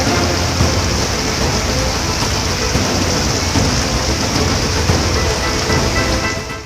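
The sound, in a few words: rain falling on Badrinath main road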